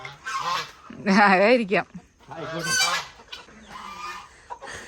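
A domestic goose that is laying and nesting at a home honks several times close by, harsh nasal calls in uneven bursts, with a person speaking briefly and quietly.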